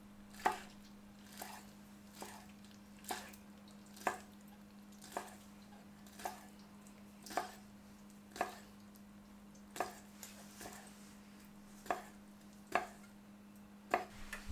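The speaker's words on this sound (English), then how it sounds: "Gather a few pieces of wood ear mushrooms and layer them on top of one another, thinly slice into strips." A knife thinly slices stacked wood ear mushrooms into strips on a cutting board while a Vietnamese chicken noodle soup is prepared. About a dozen soft, evenly spaced chopping taps land close by, with no voices.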